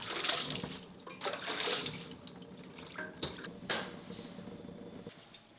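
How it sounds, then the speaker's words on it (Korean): Rinsed young radish greens drain in a sieve at a sink, water trickling and dripping close by with small splashes and faint clatter, and no one speaking. "세척 후에는 체에 맞춰 물기 제거해주세요."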